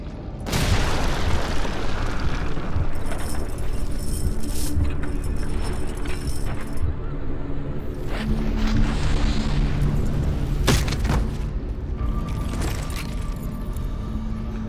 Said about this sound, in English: They started the bombardment early.